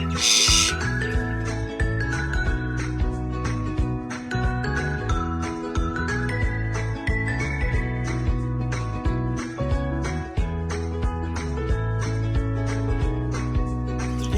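Cage birds in a breeding colony make a dense, lively mix of whistles, tinkling chirps and repeated calls close by. The sound is loud and continuous, with no speech.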